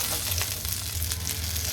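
Pieces of drumstick (moringa pod) and small shallots frying in a pan, a steady, close sizzle with a low crackling bed running throughout.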